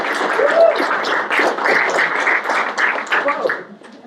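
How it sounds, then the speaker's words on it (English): A Memorial Day peace gathering applauds a speaker, with steady, fairly loud clapping from a crowd close by that keeps up for a few seconds before tapering off, and a voice partly heard under it. "Let's applaud for Ann Scheibner."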